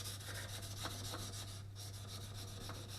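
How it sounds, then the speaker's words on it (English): A knife blade rubbed steadily along a sharpener, a continuous close rasping scrape with a rhythmic back-and-forth stroke over a low hum, no talking. "as well as keeping the knife sharp, you're maintaining the geometry of the knife."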